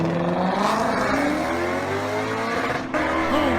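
A voice imitates a V8 engine revving, with rising and falling whine-like pitch sweeps over a loud, steady rumble, close and continuous for a few seconds with a brief dip near the end.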